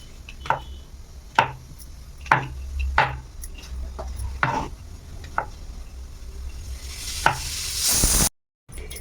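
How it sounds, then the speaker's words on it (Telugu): Knife cutting mushrooms into quarters for pakoda, a few distinct close chopping taps spaced irregularly over a quiet kitchen background, with a brief hiss near the end. "ఇలాగా నాలుగు పీసులు కింద కట్ చేసుకుందాం"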